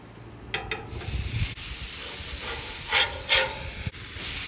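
Steak sizzles on a Blackstone flat-top griddle, a steady loud hiss with sharper spitting spurts and occasional scraping clanks of a spatula against the metal surface.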